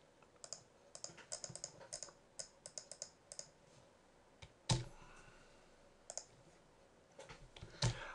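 Typing on a computer keyboard while entering a link into a web page, with bursts of quick key clicks, pauses between them and a louder keystroke or two, close and alone.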